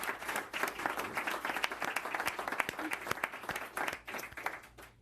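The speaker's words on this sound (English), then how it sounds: "Can we please get a round of applause for all the pharmacies that are stepping up to serve our neighborhoods?" An audience at a New York mayoral press conference applauds for pharmacies, a steady patter of many hands clapping close by for several seconds before tapering off.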